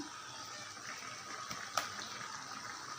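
Ground coconut paste is poured into a papaya curry, making a soft, faint wet gush with a brief splashy peak, close by and without speech.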